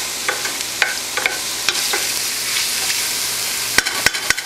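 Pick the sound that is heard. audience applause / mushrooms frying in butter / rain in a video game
mushrooms frying in butter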